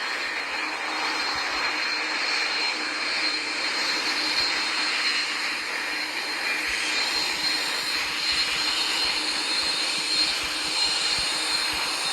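Airplane engine in a Roblox flight game during a landing: a steady, loud jet-like drone that holds throughout, with faint low thumps underneath and no talking.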